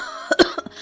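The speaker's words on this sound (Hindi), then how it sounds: "और जोर से खांसने लगी" A female cartoon character in a Hindi animated moral story coughs loudly in a quick burst of three or four rough, close coughs.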